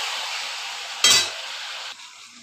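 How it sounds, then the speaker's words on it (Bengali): Chicken sizzles in a pan with fat and a large tomato as it is stirred: a steady, close frying hiss throughout, broken by one sharp scrape and clatter of the spoon against the pan, then the sizzle settles slightly quieter. "এখন তো আমি ভালোভাবে কষিয়ে নেব নাড়াচাড়া করে"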